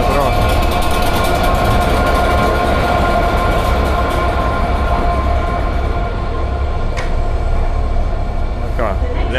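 A London Underground metro train rumbling steadily with a constant low roar and rail clatter, loud and close throughout, with a brief squeal near the end and voices faintly mixed in.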